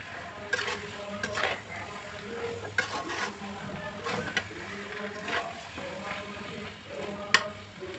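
A spoon stirs sweet, sour and spicy mango pickle in a pan with repeated scraping strokes, an irregular run of close, moderately loud scrapes and soft clatters over a low background.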